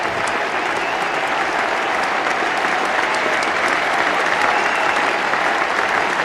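A large cricket crowd at Lord's applauds and cheers continuously during a Test match between the West Indies and England, a dense, steady roar of clapping from the stands.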